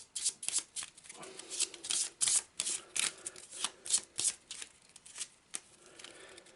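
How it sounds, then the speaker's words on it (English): A location deck of cards from the Arkham Horror card game is shuffled close up: a run of quick riffling bursts and crisp flutters in uneven rhythm, soft and alone. "Let's give it a quick shuffle."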